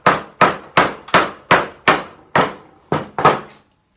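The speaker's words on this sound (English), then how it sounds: "Always keep your fingers behind the chisel." A mallet strikes a chisel while cutting a corner bridle joint in wood, nine crisp evenly paced blows up close, the last two slightly quicker, then silence.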